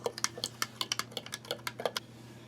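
Spoon stirring a Croatian combat ration meal in its container, a quick run of light, sharp clicks and scrapes at close range.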